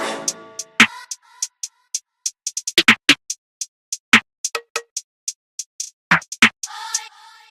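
Sparse, crisp drill-beat percussion programmed in FL Studio, with snare and brass, hits in an irregular pattern, with sharp clicks and short metallic taps spaced apart, played loud with no voice.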